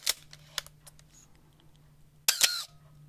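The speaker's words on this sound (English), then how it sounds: "Because that shutter at 1/250th of a second sound exactly the same as the 1/1000th of a second" A film camera running on a dying battery fires its mechanical shutter, giving a few small sharp clicks up close followed by a louder, brighter snap-and-whir near the end, with a faint steady hum underneath.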